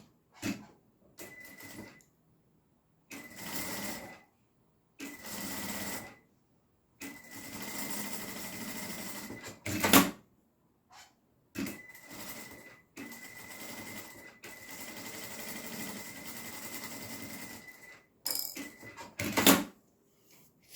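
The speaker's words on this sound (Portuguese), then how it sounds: "Agora, eu vou fazer uma costurinha em cada lateral." Sewing machine stitching seams on a fabric strap in short bursts of rapid mechanical whirring, separated by quiet pauses, close and clear.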